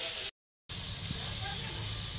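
Meat frying in spice paste in a pan for khichuri: a loud, steady, close sizzling hiss that briefly cuts out, then resumes, with a faint voice underneath.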